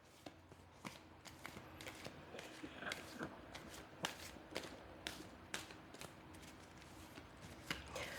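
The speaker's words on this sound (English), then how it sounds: "Let me do one more shuffle." Tarot cards being shuffled by hand give faint, quick papery snaps and riffles, repeated irregularly against a quiet background.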